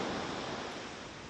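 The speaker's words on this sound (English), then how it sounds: "Down below there's water sloshing around." Water sloshes below deck of a ship in rough seas, heard as a constant, faint rushing wash of noise with no distinct splashes, and no one speaking.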